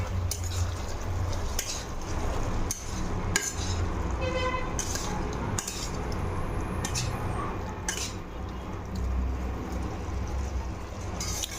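Tomato mixture being stirred and fried in a pan: a soft continuous sizzle with repeated scraping and clinking of a spoon against the metal pan, steady and close, with no talking.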